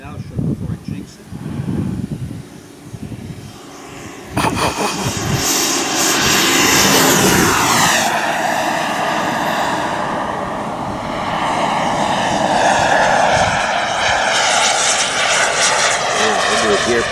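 A 2-meter Rebel RC model airplane with smoke roars past in a loud flying pass, its engine building from a distant drone to a strong close whine with Doppler sweep; voices talk faintly early on.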